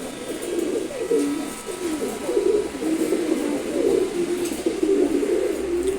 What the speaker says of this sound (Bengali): চিলা কবুতর, নর কবুতর, খুবই ফ্রেন্ডলিও।